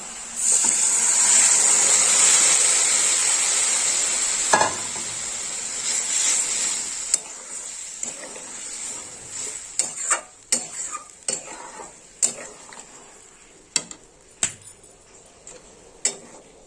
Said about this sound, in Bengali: এবার আমি মাছের ঝোলটা ঢেলে দেবো